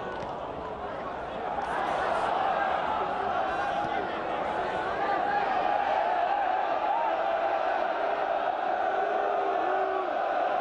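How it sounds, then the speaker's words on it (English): A football stadium crowd voices its displeasure in a continuous, loud, dense murmur of shouting and jeering that rises slightly midway, with indistinct voices throughout. "Crowd not happy."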